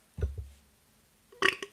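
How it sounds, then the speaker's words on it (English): A person lets out a close, loud burp, a throaty burst followed after a short pause by a second, brighter belch, with quiet room between and no talking. "that was a burp."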